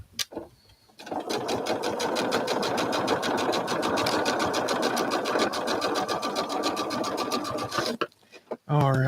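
A sewing machine stitches around a quilt, whirring in a fast, even rhythm up close for about seven seconds before it stops, with a voice talking briefly before and after.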